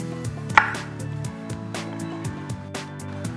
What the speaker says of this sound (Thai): หอมใหญ่นะครับใช้ครึ่งหัวเองหั่นหยาบใหญ่ๆไว้